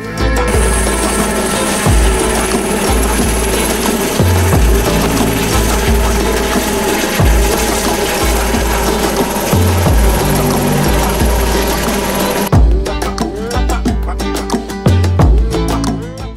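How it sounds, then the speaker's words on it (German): A helicopter carrying building materials over remote northern terrain makes a loud, continuous rotor thump and engine roar that holds throughout, with the blade beat pulsing steadily. "Unterwegs sehen wir einen Baustofftransport per Helikopter."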